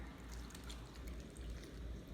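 Homemade buttermilk, milk curdled with vinegar, poured into a bowl for a peach cobbler, a soft continuous liquid pour heard up close and fairly quiet, without speech.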